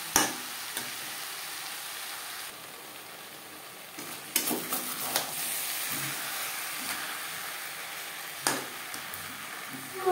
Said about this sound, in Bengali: পেঁয়াজ টমেটো চিকেনের সাথে বেশ ভালো করে মিক্স করে দেবো।